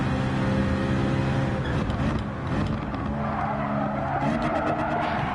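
A race car spins out in Gran Turismo 7, with a loud engine note, tire squeal and skidding that waver and break up as the car slides, and no speech.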